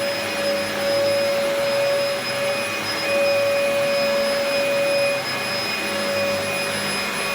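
A Dyson DC04 vacuum cleaner runs on carpet with a loud, steady motor whine and a sharp high-pitched tonal hum, holding close and continuous with slight swells as it is pushed around.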